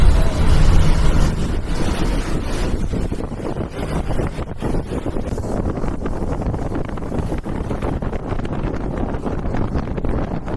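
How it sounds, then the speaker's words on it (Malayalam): Strong wind roars and buffets the microphone on a bus travelling the hill road through Chettukuzhi in Idukki, a loud, unbroken rushing noise throughout. "നല്ല കാറ്റടിക്കുന്നുണ്ട്."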